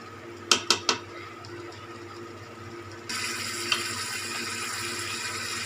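Chicken liver (kaleji) sizzles as it is fried in masala, following three quick metallic clanks of a pan and utensil; the frying hiss then rises suddenly and holds steady at a moderate level.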